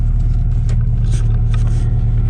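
Interior rumble of an Acura Integra on the road, a steady low engine and road drone running the whole time at even loudness with faint hiss above, no talking.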